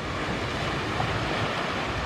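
Ocean surf washing onto a beach at night, a steady broadband roar of breaking water with some wind noise, continuous and fairly close, with no talking.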